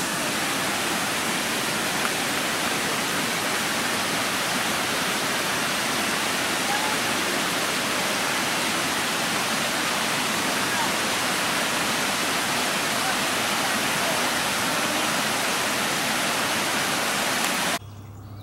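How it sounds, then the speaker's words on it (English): Water pours over the dam at Seeley Lake in a loud, steady, close broadband rush that never lets up, then cuts off abruptly near the end. "Here is the dam that makes Seeley Lake."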